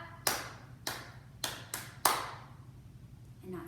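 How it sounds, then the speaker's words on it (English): Children at a storytime session clap their hands five times in a slow, slightly uneven rhythm, each clap sharp and fairly faint in a quiet room. "So we're just gonna clap and not sing any letters."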